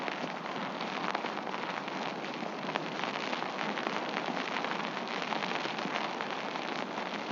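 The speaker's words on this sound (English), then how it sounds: "an onshore breeze with the rain coming down." Rain falls steadily on surfaces in Montevideo while an onshore breeze blows, a dense, even hiss of drops throughout with no voices.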